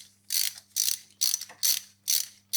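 A ratchet wrench loosens fasteners on an aluminum cylinder head in a garage, giving six evenly spaced bursts of dry clicking, close and fairly loud, with short quiet gaps between strokes.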